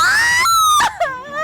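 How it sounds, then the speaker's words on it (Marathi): A woman screams in labour pain, a loud, high, drawn-out wail that breaks into shorter anguished cries, heard up close with no one else talking. "किती ओरडशील ग"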